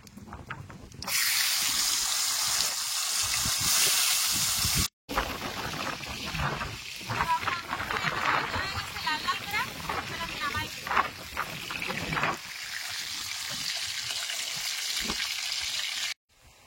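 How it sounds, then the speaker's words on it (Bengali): Meat fries in hot oil with a loud, steady sizzle that briefly cuts out, then returns with stirring clatter and bubbling under faint speech. "বাকি মাংসগুলো আমি একইভাবে সব সুন্দর করে লাল লাল করে ভেজে নেব"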